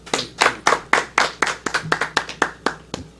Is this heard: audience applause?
yes